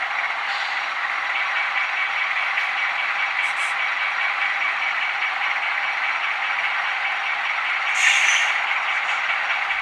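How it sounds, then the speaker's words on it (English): Dynamic brakes on an Atlas Seaboard Coast Line 'Spirit of 76' model locomotive produce a steady, even airy roar that runs unbroken throughout, with a brief sharp click near the end. "F5 engages the dynamic brakes."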